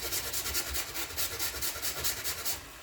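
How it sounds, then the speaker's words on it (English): An ingredient is grated for egg roll filling in a steady back-and-forth rasping rhythm, close and continuous, with no talking. "So I'm just going to grate up some of this and put it into the meat while it's cooking."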